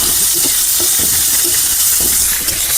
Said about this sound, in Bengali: এখন চলছে আমাদের রান্না, কাঁকড়া রান্না।